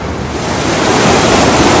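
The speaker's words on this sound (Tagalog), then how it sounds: "Ang lakas ng alon dito, oh." Strong waves crash and surge continuously on the Palakol River in Floridablanca, Pampanga, loud and close, with heavy wind buffeting the microphone.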